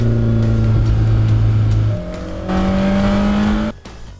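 A Mercedes AMG GT Black Series accelerates hard with wheelspin, its engine roaring loud and close through rising gears, with a brief tire squeal before the sound cuts off abruptly.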